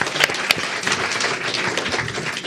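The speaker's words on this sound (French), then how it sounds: "Pardon, les applaudissements, bien sûr." An audience at a talk on secularism gives a round of applause: a dense, lively patter of hands with a few sharper, nearby claps standing out, and no voices over it.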